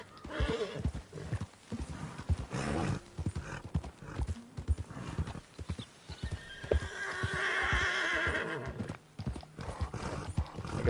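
Rapid clip-clop of horse hooves throughout in Red Dead Redemption 2, with a loud drawn-out neigh near the end, a faint voice occasionally underneath.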